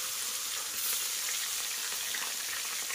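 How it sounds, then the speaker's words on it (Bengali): Fish frying in very hot mustard oil in a home Bengali kitchen, giving a steady, dense sizzle that holds at an even level throughout with no talk. "তেলটা বেশ গরম হয়ে গেছে। এবারে একে একে মাছগুলোকে আমি তেলের ভিতরে দিয়ে"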